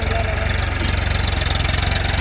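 A Farmtrac 45 tractor engine runs loud and close while ploughing a sugarcane field, a steady rhythmic diesel chug throughout, with a voice talking over it.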